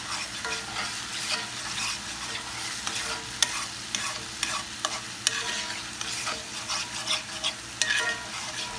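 Red sauce bubbles and sizzles in a pan as a spoon stirs it around, giving soft scraping passes and light knocks over a steady, fairly quiet hiss.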